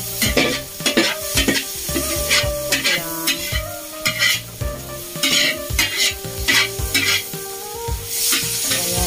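Bell peppers, onion leeks and other vegetables stir-fried in a pan for Filipino-style yakisoba, with a continuous loud sizzle and repeated scraping stirs throughout; no talking.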